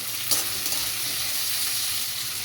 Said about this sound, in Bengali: এটা একটু ভাজা ভাজা হোক দেখে নিই